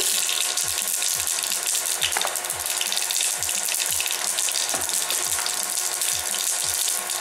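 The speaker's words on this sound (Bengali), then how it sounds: "এবার তেলের মধ্যে একটু সর্ষে ফোড়ন দিয়ে দিচ্ছি।" Mustard seeds tempering in hot oil for a lentil and raw tomato dish: a steady, loud sizzle and crackle throughout, with repeated low popping thumps at a fairly regular pace as the seeds spit in the pan.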